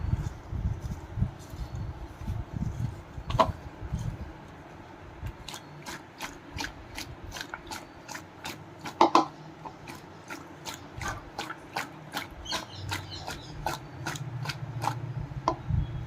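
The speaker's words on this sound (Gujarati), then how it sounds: "આપણે આ બધું એકદમ સરસ મિક્સ કરી લેશું" Bila fruit pickle ingredients being stirred with lemon juice in a bowl, a steady run of scraping, clicking stirs with a quick regular rhythm, close and fairly quiet.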